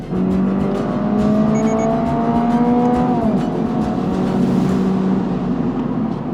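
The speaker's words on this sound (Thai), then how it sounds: "และเสียงบ็อกเซอร์ครับที่ทุกคนได้ยินอยู่จากไม้นี้นะ" Subaru BRZ with its 2.4-litre boxer engine revving, heard from inside the cabin: a steady, loud engine drone whose pitch climbs, dips briefly around the midpoint, then climbs again, with no talking.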